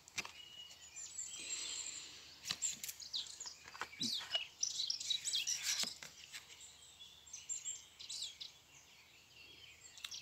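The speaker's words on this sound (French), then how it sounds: "il y a autant de chants d'oiseaux la journée que très tôt le matin ou très tard le soir" Birds sing and chirp in scattered high bursts during the daytime under an overcast sky, faint and mostly distant, with occasional sharper nearby calls and a soft background hum.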